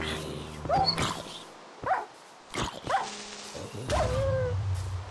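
Dogs in the video game Minecraft, several short yips and barks spaced across the stretch with a whimpering tone between, fairly close and clear.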